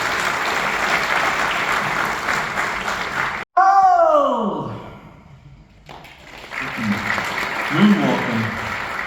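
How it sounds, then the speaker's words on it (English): Audience applause at an Android developer conference in Lisbon breaks off abruptly, giving way to a swooping sound effect, then resumes with clapping mixed with cheering and voices. "So the first round of applause here is for you"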